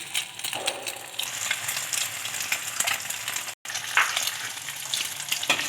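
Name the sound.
shami kababs frying on a tawa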